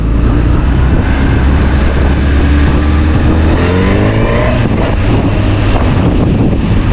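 Riding a new Honda CB1000R Hornet motorcycle, heavy wind buffeting roars across the microphone. A low engine drone runs underneath and rises in pitch partway through as the bike accelerates, with no voices.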